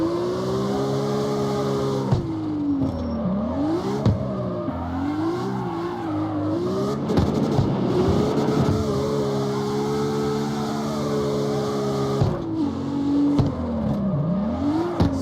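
A drifting car in the CarX Street video game, its engine droning and revving loud and close while the tires squeal through long slides, with the pitch swooping up and down as the car shifts gears.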